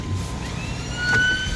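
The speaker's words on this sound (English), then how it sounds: "Oh, I've got an ambulance here." An ambulance siren wails steadily on the road near a truck, mixed with rumbling traffic and engine noise, with no talking.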